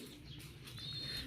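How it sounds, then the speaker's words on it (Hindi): French pigeons in a home breeder loft coo softly and close by, a low murmuring call with faint rustling and a brief higher bird chirp, quiet overall. "ये फ्रांसा कबूतर है"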